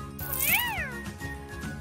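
A kitten in the Kitty Meow Meow City Heroes kids' rescue game gives one clear, rising-then-falling meow over steady, looping game music.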